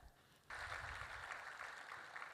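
Audience applause breaks out at a signing ceremony during a women's finance summit in Rwanda, starting abruptly and sustaining as a steady, moderately distant clapping wash.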